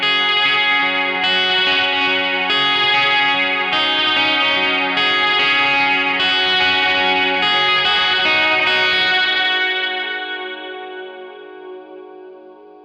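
Electric guitar at full volume through a Marshall DSL20HR amp, loud and saturated with heavy gain, chords strummed in steady rhythm for about ten seconds, then a long sustained ring fading away.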